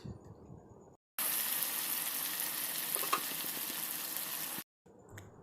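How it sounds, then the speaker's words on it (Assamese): Loud, steady sizzling and crackling of fatty duck meat frying in its released oil, filling a few seconds alone before stopping abruptly, with quieter background noise at either end. "এতিয়া ভাজতে দেখাই পাব যে হাঁহখিনি ধুনীয়াকৈ তেল ওলাব ধৰিছে আৰু ফুটিব ধৰিছে।"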